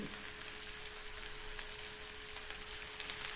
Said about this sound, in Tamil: இப்போ எல்லாத்தையுமே நல்லா வதக்கி விட்டுக்கணும்.